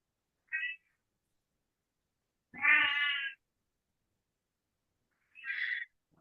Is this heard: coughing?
no